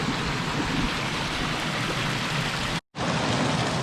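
A waterfall and stream at Tonto Creek, rushing water flowing in a steady, dense hiss close by, with a brief cut near the end.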